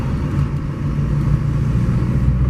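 A truck with a ZF6 transmission and 38-inch tires rolls along a dirt road, giving a steady, close low engine rumble and road drone with no talk.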